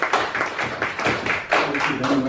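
A round of applause for an honoree at a special council session, with overlapping hand claps rising and falling in bursts through the moment, fairly close and continuous with no speech over it.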